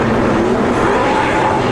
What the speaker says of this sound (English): Great looking field of race cars here for the finale at Kawartha Speedway.